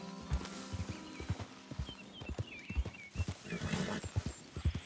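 A horse walks in Red Dead Redemption 2, its hooves clip-clopping in a steady, uneven rhythm, close and moderately loud, with faint ambient game sounds around it.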